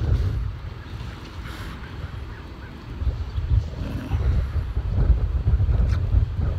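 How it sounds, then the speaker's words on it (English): Strong outdoor wind buffets the microphone with a steady low rumble that swells louder in the second half, with no talking. "Oh, this wind is making it very difficult."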